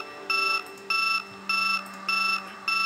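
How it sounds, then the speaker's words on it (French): A radio alarm clock rings in the Project Zomboid video game, a loud electronic beep pattern repeating in even bursts about every half second, heard alone. "Il y a un radio réveil qui sonne quelque part."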